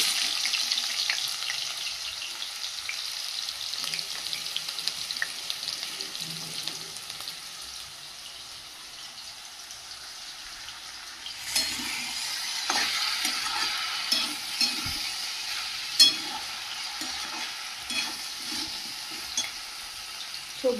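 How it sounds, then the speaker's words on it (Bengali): Potatoes fry in hot oil in a wok (kadai), giving a steady, moderately soft sizzle with stirring scrapes and clinks. A few louder clatters come through in the second half, and no one speaks. "আলুগুলো ভেজে নেব"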